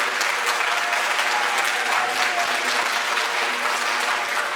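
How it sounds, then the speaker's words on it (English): Sustained, loud audience applause fills a school spring middle school jazz concert hall, dense steady clapping from a crowd with no talk over it. "Give him a round of applause for being here this evening."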